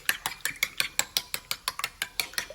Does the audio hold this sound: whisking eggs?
yes